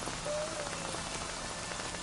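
Hail falls in the Astro's Playroom video game as a dense, steady patter, even and continuous with no voices.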